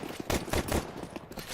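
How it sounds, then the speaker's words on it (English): Rapid pistol shots from a Desert Eagle in a Counter-Strike match, several loud cracks in quick succession over about a second amid game noise, with no talk. "Levi, game-changing play on the Deagle."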